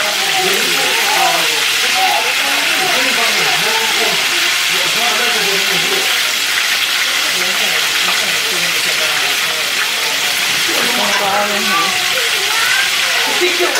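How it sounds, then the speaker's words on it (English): Half a stick of butter melts in a hot pan, giving a steady broad sizzling hiss close by that runs throughout while someone talks over it. "half a stick of butter and let that melt down onto the pan"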